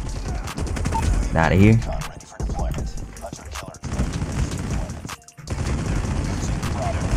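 RPD machine gun in COD Mobile rattles off in rapid sustained bursts, broken by a short pause and a brief silence, with a voice talking over the firing.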